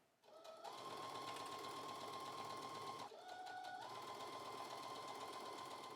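A sewing machine with auto tension runs a seam in slinky fabric, a steady whirring drone in two long runs with a short pause between them, fairly faint and with no voices.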